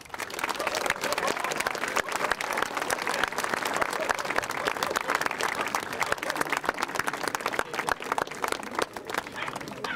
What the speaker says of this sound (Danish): så lad os give dem et bifald.